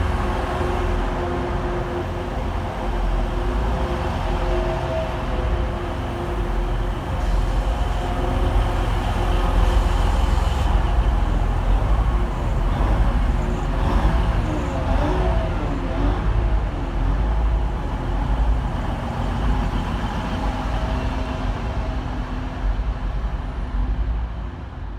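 A Class 185 TransPennine Express unit pair, 185139 and 185110, runs at Manchester Victoria station. The diesel engines hum low and steady for the whole stretch amid the station's ambient rumble, with no voices.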